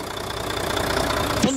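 A Euro 4 12-litre Volvo diesel engine idles in a 2007 Volvo B12BT coach with Van Hool T9 Acron bodywork, a steady rumbling with faint knocking. A short tonal sound breaks in at the end.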